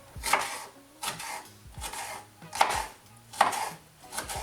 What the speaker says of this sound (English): You just want to cut those into bite-sized pieces.